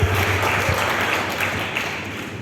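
Steady, moderately loud applause from an audience at a scouting talk, continuous and evenly textured, with no voices over it.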